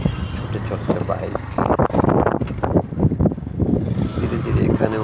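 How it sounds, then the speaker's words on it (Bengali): A motorbike rides along a winding hill road, its engine drone steady beneath heavy wind buffeting on the microphone, with fluctuating rumble throughout. "ছুটে চলছে বাইক।"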